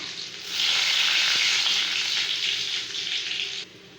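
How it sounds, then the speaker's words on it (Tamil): Garlic, dried red chillies and curry leaves frying in hot oil for a Tamil tomato thokku, giving a steady, loud, close sizzle that runs for about three seconds before dropping off, with no talking. "இது எல்லாமே எண்ணெயில் நல்லா பொரியட்டும்."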